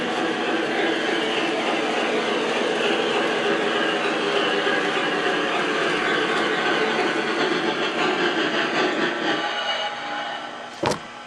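A Y3 model train locomotive with DC-DCC electronics runs along its track at a good speed, giving a steady, close, continuous whirring rumble that drops away near the end, followed by a brief sharp click.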